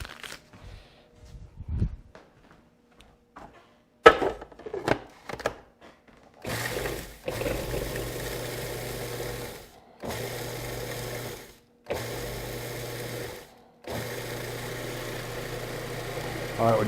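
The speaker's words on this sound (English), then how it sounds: "we're going to put the 5 tablespoons of butter in the food processor" A food processor whirs in several short bursts, mixing butter for a chocolate cheesecake crust, each pulse a steady motor drone of one to three seconds separated by brief pauses, after scattered clinks of loading the bowl.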